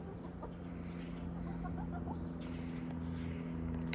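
Hens cluck softly and intermittently in a chicken run over a steady low hum, with faint scattered calls in the background of a barn-like space.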